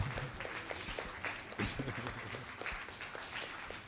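An awards ceremony audience applauds steadily in a hall, a dense, moderately loud wash of clapping that continues throughout with slight swells and a few sharper claps standing out.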